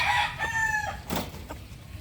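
Roosters named Gull, Butcher and Lemon crow and cluck at close range, with bright harmonic crows over a short burst of clucking and scratchy farmyard noise.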